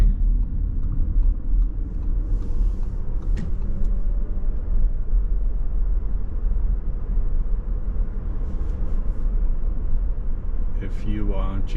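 A 2021 Audi e-tron drives on the highway, producing a steady low road and tire rumble from inside the cabin for the whole stretch, with occasional brief voice fragments late in the clip.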